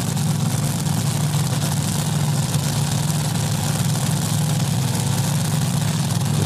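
A supercharged Hemi engine in a Top Alcohol Dragster idles loudly at a drag strip during qualifying, a steady, dense low rumble that holds constant throughout.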